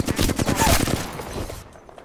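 Dense burst of automatic gunfire from an Apex Legends firefight, rapid cracking shots crowding the first second and a half, then tapering off as the shooting stops.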